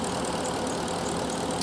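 A Porsche Cayenne engine idles in a steady, even hum with no change in pitch or level, recorded nearby and with no voices over it.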